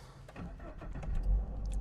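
A Subaru BRZ with a 2.4-litre naturally aspirated boxer engine and six-speed manual is started, giving a brief crank that catches into a low, fairly subdued idle rumble heard up close.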